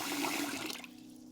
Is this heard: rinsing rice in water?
yes